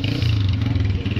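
A motorcycle engine, the 1.5, revs up close by in a short, loud, steady burst with a strong low growl and no talking over it.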